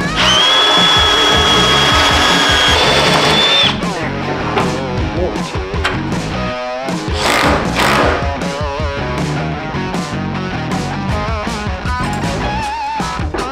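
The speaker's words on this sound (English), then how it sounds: "We'll just drill a couple of new holes." A power drill boring new holes for a radiator mount on an old truck whines steadily for a few seconds, then gives way to close thumps, scraping and metallic clatter as work continues.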